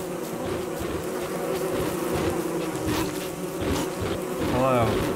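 A dense, continuous buzzing swarm of angry bees in the video game Don't Starve Together, droning loudly and swelling slightly toward the end, with no talking.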